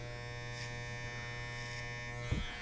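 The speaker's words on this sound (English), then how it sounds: "I'm stopping my clipper my comb as I take the machine and go across" An electric hair clipper hums steadily and fairly faintly throughout a clipper-over-comb haircut, its constant buzz broken only by a brief knock near the end.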